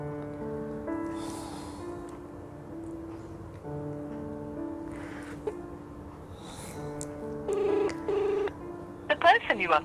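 A phone call going unanswered: a steady electronic ringback tone pulses in repeated bursts with pauses between them, and a brief breathy sound and a short automated tone sequence come near the end.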